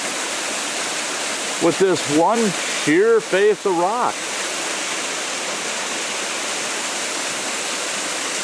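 Small creek spilling over a sheer rock face at Rouse Falls in a sheltered little canyon, a steady broadband rush of low-volume water that continues throughout, with someone speaking briefly over it.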